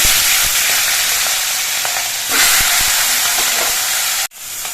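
Steady, loud sizzling of a fish head frying in hot mustard oil with cumin, a continuous crackling hiss with small pops throughout, cutting off abruptly near the end.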